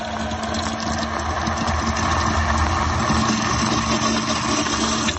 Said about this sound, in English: It's a sump pump. It's the float or the water raising up and the float lifting. The pump kicks on and sucks it all out.